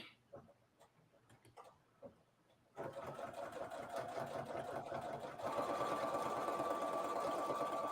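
Sewing machine stitching a 1/4 inch seam: a few faint clicks first, then a steady close mechanical whirring that starts abruptly, runs for about five seconds and speeds up partway through.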